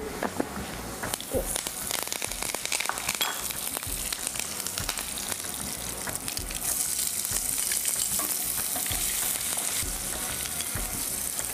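Urad dal, chana dal and curry leaves fry in hot oil with a dense, continuous sizzle and crackle, stirred now and then, with no voices.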